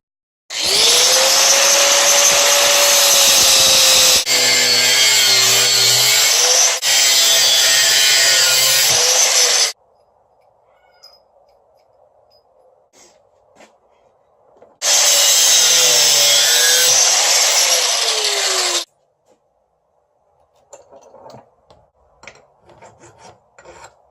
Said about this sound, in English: So I'm going to cut up this brass plate into 4 pieces